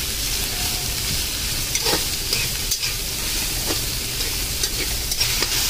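Vegetables for noodles stir-frying with salt in a pan, a steady close sizzle with occasional scrapes and stirring clatters, no voices.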